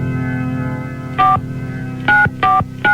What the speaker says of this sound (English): Let's dial her up.